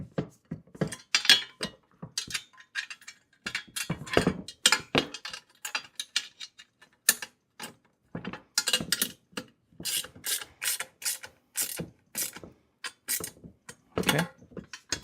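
Hand-tightening 13 mm bolts while assembling a heavy-duty four-wheel garden dump cart wagon, heard as repeated short ratcheting clicks and metallic rasps in irregular bursts, close and fairly clear, with no talking.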